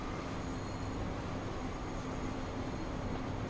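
Trains racing in the video game Transport Fever, a steady, continuous rumbling rolling drone with a faint hum, unchanging throughout and without any talking.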